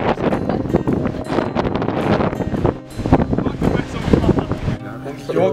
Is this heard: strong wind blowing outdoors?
yes